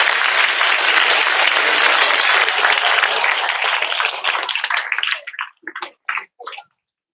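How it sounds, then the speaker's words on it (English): Middle school students at an awards assembly clap for their families, a loud, dense round of applause that thins out into scattered separate claps before falling silent. "give your families a round of applause"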